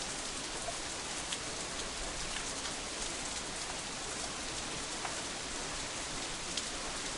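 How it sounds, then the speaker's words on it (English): Steady rain in the visual novel game Katawa Shoujo falls as an even, hissing wash of drops, constant and moderately soft, with no voices. "I kind of wish we'd get away from this rain"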